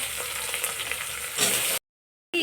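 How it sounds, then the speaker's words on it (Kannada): Loud frying sizzle of brinjal in a pan with light stirring, cut off by a brief gap of silence before the sizzling resumes. "ಸ್ವಲ್ಪ ಫ್ರೈ ಮಾಡ್ಕೊಳ್ಳೋಣ"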